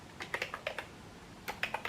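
Crisp, close clicks of a computer keyboard as a command is typed into a Windows command prompt, two quick bursts of several keystrokes separated by a short pause.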